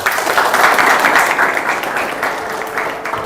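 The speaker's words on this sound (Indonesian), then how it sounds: "tepuk tangan dulu" Applause fills the whole clip, a steady, fairly loud wash of many hands clapping for a child who has just recited Iqro level 4 in a barracks gathering.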